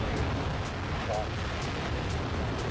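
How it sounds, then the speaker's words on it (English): A Terran 1 rocket lifts off with a steady broadband roar heard from a distance, with a low rumble running under it the whole time. "Liftoff. Terran 1 has cleared the tower"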